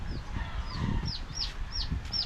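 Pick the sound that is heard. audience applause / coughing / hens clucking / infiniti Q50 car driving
hens clucking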